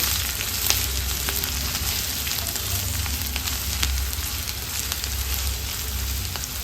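Chopped ginger and garlic fry on a low flame, making a continuous even crackle and hiss with occasional tiny pops and no voices.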